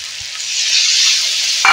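Snails fry in a pan with chili powder, turmeric and ginger, making a loud, close, continuous hiss of sizzling oil, with a brief scrape of stirring near the end.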